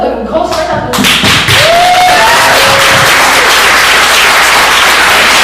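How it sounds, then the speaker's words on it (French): At a film festival evening, an audience breaks into loud, sustained applause for the evening's author, starting abruptly after a brief spoken voice and continuing as a dense wash of clapping. "donne une grosse main d'applaudissement"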